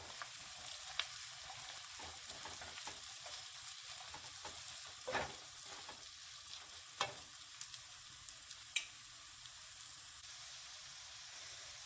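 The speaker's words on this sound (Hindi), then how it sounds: "अब मैं इसमें शिमला मिर्च डाल रही हूँ और इसे 1 मिनट तक पका लेंगे।" Chopped capsicum frying in a pan for pav bhaji, a faint, steady hiss of oil with a few isolated spoon taps and stirs.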